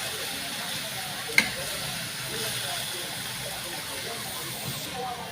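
Winged beans are sautéed in a hot pan for a Filipino dish, giving a steady, close sizzle and hiss throughout, with one sharp click early on.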